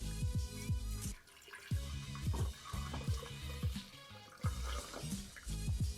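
Cocktail liquid poured directly over ice in a container, a close gurgling, glugging pour with sloshing and dripping in uneven spurts, broken by a brief lull, with no talk.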